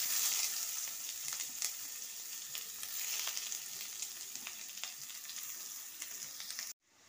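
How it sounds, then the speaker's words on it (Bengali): A large onion frying in oil with dry red chilli, cardamom and bay leaf, a faint steady sizzle with light crackles that cuts off abruptly at the end. "এবার এতে দিয়ে দেবো একটা বড় পেঁয়াজ।"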